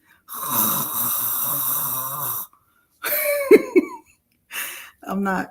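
A person imitates snoring with several rough, snorting inhales and gurgles, in separate bursts with short pauses, close and fairly loud.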